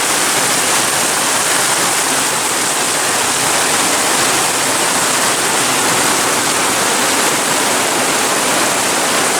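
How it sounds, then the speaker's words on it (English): A steady, loud roar of heavy rain, with runoff water rushing off a plateau and through a small culvert, fills the space evenly, with no pauses or voices. "So this is a pretty heavy rain."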